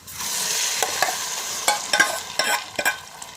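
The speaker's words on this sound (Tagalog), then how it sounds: "Igisa, igisa ko siya muna bago natin lagyan ng tubig" Mung beans being sautéed in a pan make a bright sizzle broken by several sharp spatula scrapes and stirring knocks, close and loud, with nobody speaking.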